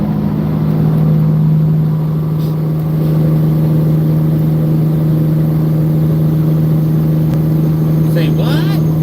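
A Caterpillar 3406 diesel in a truck idles with a steady, deep, even drone throughout, loud and close in the cab, with a brief higher chirp near the end.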